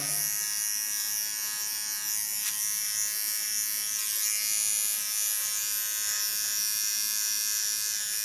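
A small hair clipper buzzes steadily and close up while trimming the contour of a neckline, a continuous high electric whine with slight changes as it moves.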